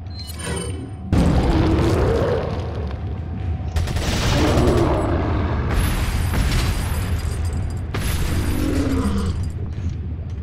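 Grenade blasts and combat in Resident Evil 4: several loud booming explosions with roaring bursts about every two to four seconds, over continuous rumbling noise.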